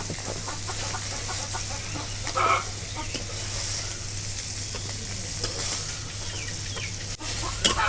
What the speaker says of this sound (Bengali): এক পিঠ মাছ ভাজা হচ্ছে